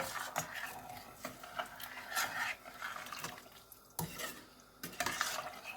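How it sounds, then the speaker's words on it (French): A spoon scrapes and clinks in a pot as an Indian detox soup is stirred after a litre of water is poured in, giving irregular close metallic knocks and swishing liquid, with no voices. "je prends 1 litre d'eau que je verse dans ma soupe. Je mélange."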